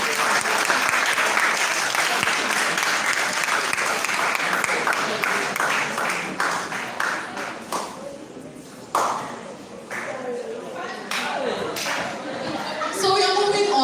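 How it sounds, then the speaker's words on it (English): Audience at a festival event applauding a speaker, a long burst of dense clapping that thins out into scattered claps, with a voice starting to speak as it fades. "A round of applause for him again."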